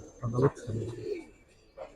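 A home-bred young Giribaz pigeon at a loft gives a couple of low, throaty coos in quick succession, then a brief fainter call, close by in a quiet room.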